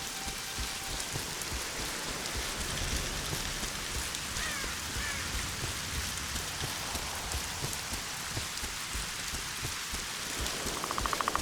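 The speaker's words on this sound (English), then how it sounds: "It's really raining now." Rain falls steadily in The Witcher 2: Assassins of Kings on PC, a constant dense hiss of drops on surfaces with soft low rumbling beneath, fairly quiet and unbroken with no voices.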